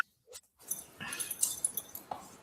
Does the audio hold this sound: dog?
yes